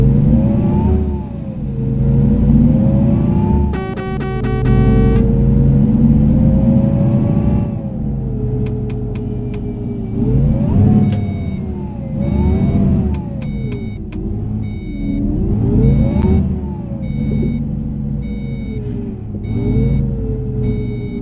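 A bus engine drones loudly in Euro Truck Simulator 2, on a modded bus driving the Kirkenes mine road, rising and falling in pitch as it accelerates and eases off, with occasional short electronic beeps over the rumble.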